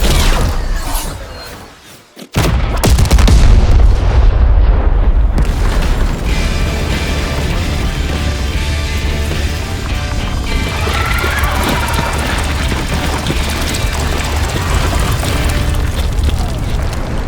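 A rocket strikes a building in a visual-effects shot, setting off a huge booming explosion after a brief silence, followed by a long loud rumble of debris tumbling down.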